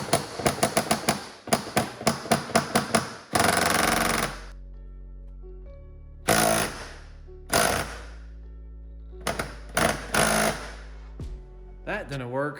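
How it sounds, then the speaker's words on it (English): A pneumatic impact wrench rattles in rapid hammering bursts, first a quick string of short blasts, then longer sustained runs and several brief stop-start pulses, loud and close with quiet gaps between. "the impact wrench is not doing me any good"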